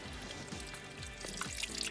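Small creek water trickling and burbling through the woods along a deer trail, a steady close babble with faint drips and splashes and no talking.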